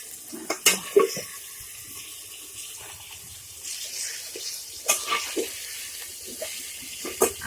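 Water is added to a pot of light chicken curry as it cooks, giving a close splashing pour with several sharp bursts and quieter stretches between them.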